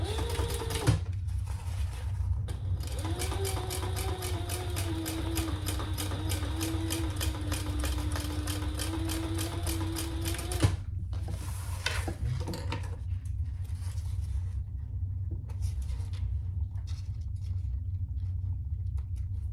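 A sewing machine top-stitches a bowler bag, its steady rapid motor whir running almost unbroken for about ten seconds, then stopping and giving a few short bursts before falling quiet.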